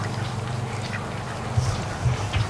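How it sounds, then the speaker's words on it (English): A flock of ducks quacks as they return from a swamp to the barn, with steady low chatter and a few louder quacks toward the end, fairly close. "the ducks are all coming back right now"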